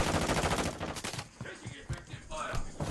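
Gunfire in a Fortnite match, with a shotgun among the weapons: loud, close bursts of rapid shots, heaviest at the start and then broken into scattered reports, with a voice talking over part of it.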